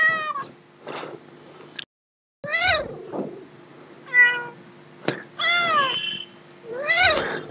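Google's cat Easter egg playing a series of separate, close, clear cat meows with short gaps between them and one brief moment of silence.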